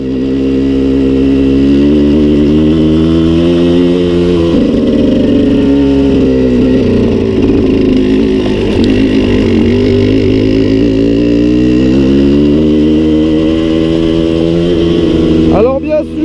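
A Suzuki 125 TSR trail motorcycle rides off-road on a mountain dirt track, its engine droning loud and close with a steady, sustained note that rises and falls slightly as the rider works the throttle.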